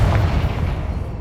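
Spell explosion in the Hogwarts Legacy video game, a short, heavy booming blast with a low rumbling body that fades within about a second.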